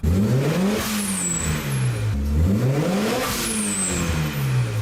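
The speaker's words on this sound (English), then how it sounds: "the whistling sound Brian's Eclipse makes is a Greddy Type S blow-off valve" A turbocharged Mitsubishi Eclipse engine revs up and down twice in sweeping rises, with a high, thin whistle from a Greddy Type S blow-off valve appearing briefly near the top of each climb.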